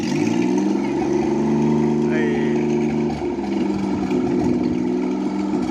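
A crude homemade helicopter engine runs steadily with its main rotor spinning during a ground test, a loud continuous mid-pitched drone with a strong harmonic hum that holds throughout.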